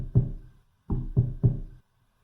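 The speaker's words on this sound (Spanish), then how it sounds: "golpearon a la puerta de la calle." Four heavy knocks on a street door, one then a pause and three more in steady succession, loud, close and hollow, with no voices.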